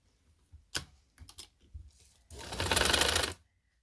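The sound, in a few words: sewing machine stitching a baby frock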